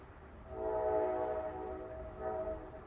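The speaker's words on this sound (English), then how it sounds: "As the train just choo-choo." A train horn sounds as a train passes, a sustained tonal blast swelling in then easing and returning, over a low rumble, no talk.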